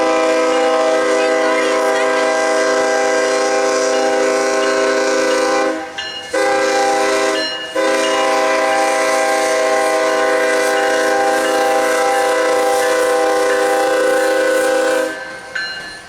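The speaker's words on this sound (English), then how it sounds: "there was a train already coming out of the yard" A train horn blares loud and sustained, steady rich tones held for long stretches with two brief breaks, over the rumble of a freight train leaving a rail yard.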